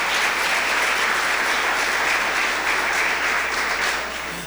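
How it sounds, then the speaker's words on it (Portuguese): A church congregation applauds loudly and continuously, a dense wash of many hands clapping that eases off slightly at the end. "por favor, aplauda Ele."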